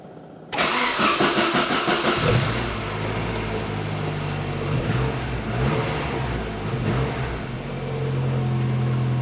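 A 1990 Saab 900 Turbo Convertible with a four-cylinder engine cranks and fires abruptly, then settles into a loud, steady running note with rising revs as it pulls away and drives on, with no talking.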